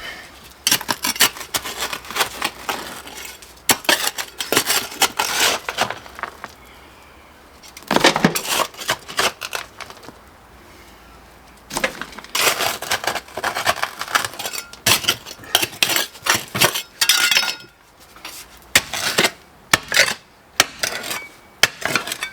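A trowel digs through clay and coal chips in a backyard, producing repeated scraping, chopping and gritty crunching strokes in irregular bursts, close and fairly loud, with short pauses between them.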